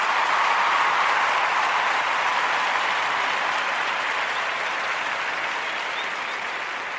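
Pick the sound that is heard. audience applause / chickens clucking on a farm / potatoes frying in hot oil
audience applause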